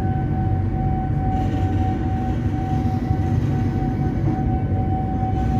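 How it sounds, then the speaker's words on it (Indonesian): The Gumarang train pulls out of Pasar Senen station with a loud, steady rumble and rattle heard from on board, joined by a constant high tone. "kereta api Gumarang jurusan stasiun Pasar Senen Surabaya Pasar Turi ini diberangkatkan."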